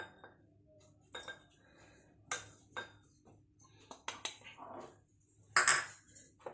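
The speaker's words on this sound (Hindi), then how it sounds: "एक मैंने मग लिया है, ये माइक्रोवेव सेफ है, और इसके अंदर सबसे पहले मैं डाल रही हूँ मैदा।" Flour (maida) spooned into a microwave-safe mug for an eggless mug cake, heard as a few light metallic clinks and taps of spoon on ceramic, with a brighter cluster of clinks near the end, close and otherwise quiet.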